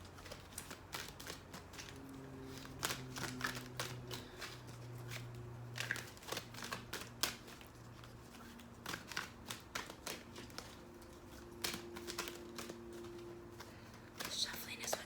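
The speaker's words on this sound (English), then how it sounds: "Shuffling is what takes the longest, Jill." Tarot cards being shuffled, with quiet crisp riffling and tapping bursts scattered over a low steady hum, faint and close, with a soft voice speaking underneath.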